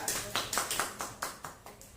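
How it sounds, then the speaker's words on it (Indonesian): A class of students claps hands for a classmate during an Indonesian lesson on hajj and umrah, about eight sparse, separate claps in a quick uneven rhythm, close and moderately loud. "beri tepuk tangannya"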